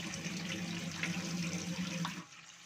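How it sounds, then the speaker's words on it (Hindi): Soda water draining from soaked chickpeas in a kitchen sink, a steady rushing pour that runs on for about two seconds, then drops off to quiet. "सोडे वाला पानी मैं ड्रेन कर लूँगी।"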